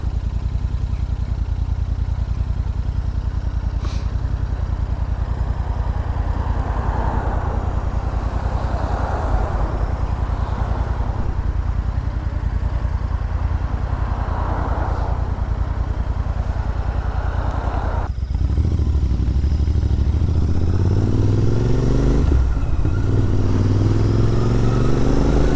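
Royal Enfield Interceptor 650 motorcycle riding home from a reservoir, a steady engine drone with wind rush throughout, then a louder revving surge as the bike pulls away near the end.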